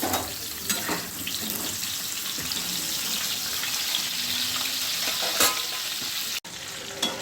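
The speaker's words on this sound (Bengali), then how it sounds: "সাদা তেল দিয়ে এটাকে পটলটাকে ভেজে নেব" Pointed gourd (potol) frying in white refined oil, giving a steady, dense crackling sizzle throughout with occasional louder pops and stirring bumps, close and with no talk.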